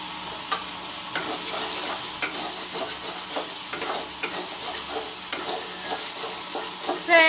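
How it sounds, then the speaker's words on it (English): Masalas with jeera powder frying in a pan for egg curry, a steady close sizzle broken by regular scraping taps of a spatula stirring against the pan. "Put in the jeera powder. Fry the masalas nicely."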